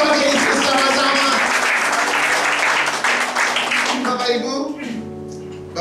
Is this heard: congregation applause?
yes